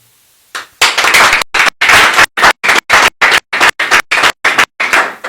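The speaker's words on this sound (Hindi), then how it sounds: "बाप रे बाप रे, ताली पीट रहे" A church congregation at a Christian gathering claps in loud, steady rhythmic bursts, about a dozen sharp beats evenly spaced and close by, with no talking over it.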